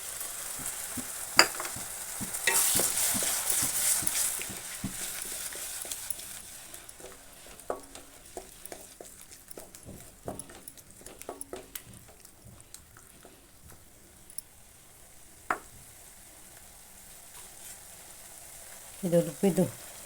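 Blended tomato puree and chili powder sizzle and bubble in oil in a pan for an aloo gravy, a steady frying hiss with scattered stirring knocks and a clatter near the end.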